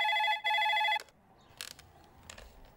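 A telephone rings indoors with a bright electronic trill in two bursts, a short gap between them, then stops abruptly, leaving a quiet room with faint clicks and rustles.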